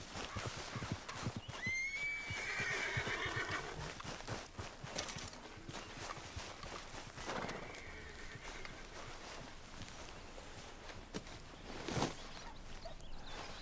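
A horse in Red Dead Redemption 2 whinnies loudly near the start, then clip-clops along at a walk with scattered hoof thuds and rustling, fairly quiet overall, no talking.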